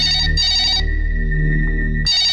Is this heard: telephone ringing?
yes